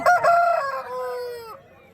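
A rooster at a fowl market lets out one loud, close crow that rises and then trails off over about a second and a half.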